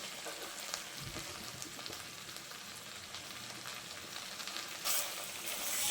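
Shrimp curry with freshly chopped coriander simmers and sizzles steadily in a pan over a gas flame, a soft continuous crackle with faint spoon movements that swells slightly near the end.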